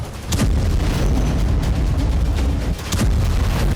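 A bomb goes off near a hospital in central Gaza. There are loud, deep booming blasts, with sharp bursts near the start and again close to the end over a heavy rumbling roar, and no voices.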